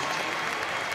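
A crowd at an artistic gymnastics competition at the Commonwealth Games gives dense, sustained applause. It is loud and continuous for a brief moment.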